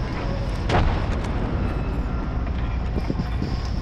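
A frag grenade goes off in the Apex Legends battle royale game, one loud booming blast near the start that rolls into a dense, rumbling wash of game noise with scattered faint thuds afterward.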